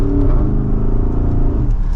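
A 2023 Porsche Cayenne Turbo with sport exhaust, driven in Sport Plus mode, accelerates back up to speed, its engine note rising steadily and loud, close and continuous for two seconds without talk.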